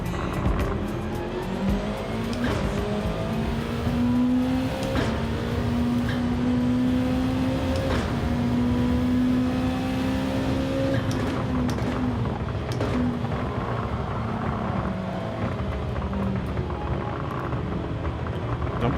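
A race car engine in the Gran Turismo 7 driving game roars loudly and steadily at high revs throughout, its pitch rising and falling through gear changes, with occasional tire squeal.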